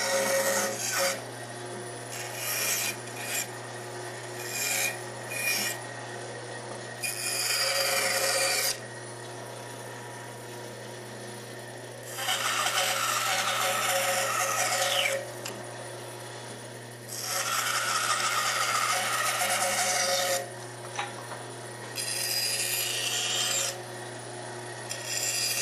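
Hand rasp on a lathe-turned wooden duck decoy body, smoothing out the turning ridges in long, rough scraping strokes that come in bursts with pauses between, close and steady over a low background hum.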